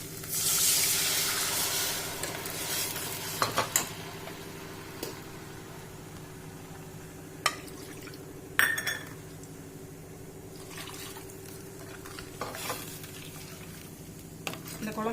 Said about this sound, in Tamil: கரைச்சி வச்ச பேஸ்ட்டை இதில் ஊற்றிடலாம்